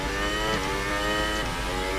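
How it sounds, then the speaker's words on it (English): A Formula 1 car in the racing game F1 2018 revs with a loud, steady high-pitched engine whine. The tone rises and falls slightly through a short, continuous burst, with no talk over it. "You can see the difference between the sounds of Honda,"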